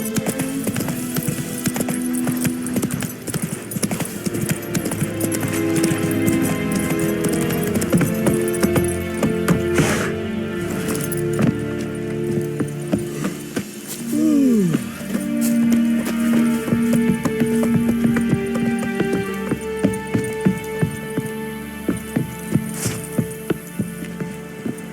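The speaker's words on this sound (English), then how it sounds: "Run, Roach." The horse Roach gallops in The Witcher 3, with a steady, close run of hoof clip-clops over an ambient game soundscape and a brief whinny midway.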